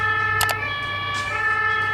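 Ambulance siren passing through slow, congested traffic on a narrow road, a brief bright wail rising over a steady hum of engines and road noise.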